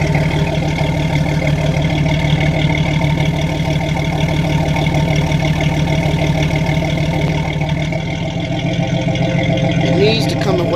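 A 1993 Chevrolet S10 with the 4.3 engine idles smoothly and evenly, a close, loud, rhythmic hum holding steady throughout with faint voices underneath.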